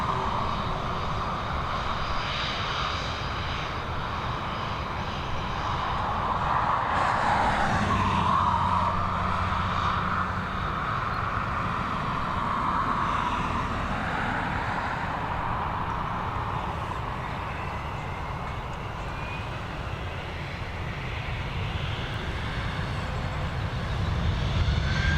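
An Aer Lingus Airbus A320neo taxis out at Dublin Airport, its jet engines giving a steady, moderately loud whine and rumble that swells slightly partway through, with no talking.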